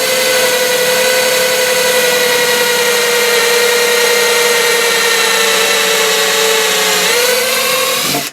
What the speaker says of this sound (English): I'm just using a small drill, 3/8 bit, like I said, and just take my time